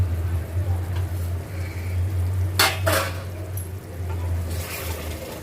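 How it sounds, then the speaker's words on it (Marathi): Prawn biryani mixture is stirred and sautéed in a pot, with a couple of brief scraping, clinking bursts over a constant low hum and faint background sizzle. "व्यवस्थित मिक्स करूया परतून घेऊया व्यवस्थित असं"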